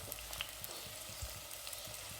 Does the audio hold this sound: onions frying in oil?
yes